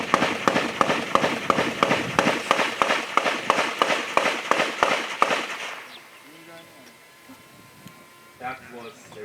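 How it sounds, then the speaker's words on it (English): Rapid rifle fire by a soldier at a military firepower demonstration, a string of about a dozen sharp, evenly spaced loud shots over several seconds, then quieter outdoor ambience with faint voices. "Let us listen to the rapid firepower of the rifleman."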